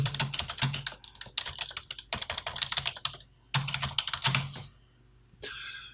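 Rapid keystrokes on a computer keyboard while entering text in InPage 3 software, clattering in close bursts separated by short pauses, with no voices.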